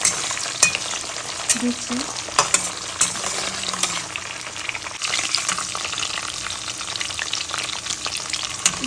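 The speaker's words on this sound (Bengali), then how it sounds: "একটুখানি ভেজে নিলাম হালকা।" Jackfruit seeds being fried and stirred in a pan with green chilies: steady close sizzling with scraping stir strokes throughout, and a brief word spoken once.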